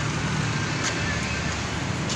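Steady wash of morning road traffic on Molino Road, a continuous broadband roar of passing cars and engines without distinct pauses, fairly close and moderately loud.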